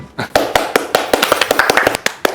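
Applause from a small group in a staged comedy setting, sharp irregular hand claps close by, loud and dense for about two seconds.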